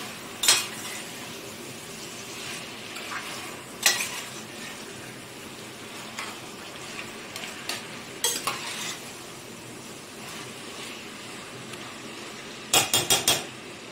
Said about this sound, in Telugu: దీన్ని చక్కగా కలుపుకొని ఈ విధంగా కలిపేసుకొని